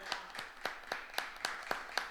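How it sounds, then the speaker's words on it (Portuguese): A small group clapping together during a church service, with about eight or nine evenly spaced, fairly faint claps at a steady rhythm. "Uma salva de palmas para Jesus."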